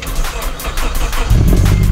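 A flood-damaged Nissan Primera HP10 Autech engine catches and starts near the end, a low rumbling idle rising suddenly out of quieter background noise over a short span.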